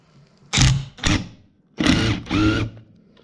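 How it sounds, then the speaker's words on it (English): On a STIHL FS80 trimmer under repair, a pneumatic rattle gun impact wrench fires four short, loud, close-up bursts in two pairs, with brief quiet gaps between them and no voices. "this will go on my rattle gun, and I should just be able to blast it off."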